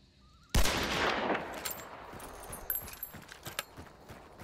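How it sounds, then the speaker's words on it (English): A sharp gunshot blast cracks out in Hunt: Showdown as a poison barrel is shot, followed by a decaying boom and scattered crackling, thumping impacts trailing off over several seconds. "Shooting a poison barrel."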